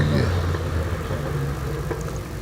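A Datsun 1600 race car at a hillclimb event gives off a steady, close engine drone with a low rumbling hum that holds evenly throughout, like a car idling or running at constant revs.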